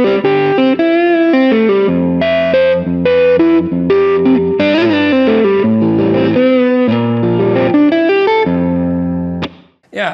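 Electric guitar played through a FATB overdrive pedal, strummed and picked chords with a thick, fat, saturated tone and shimmering effects, loud and continuous before cutting off near the end; no talking.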